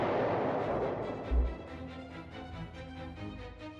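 A B-17 bomber is destroyed in a single deep, booming explosion in the Interceptor Ace video game, its rumble fading into a long rolling tail with faint pulsing echoes.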